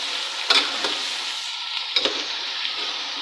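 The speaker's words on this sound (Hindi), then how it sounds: "फ्लेम को हाई करके इसको हम थोड़ा सा गोश्त के साथ प्याज को थोड़ा मिक्स कर लेंगे।" Meat and onions fry in a pan on high flame, a steady broadband sizzle with two sharper stirring scrapes, heard close with no talk.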